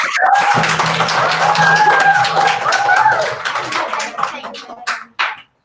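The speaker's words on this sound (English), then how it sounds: "Oh, give me a big clap." An audience at a school celebration assembly claps in a dense, sustained burst that holds steady, then thins out to a few scattered claps and stops, with faint voices under it.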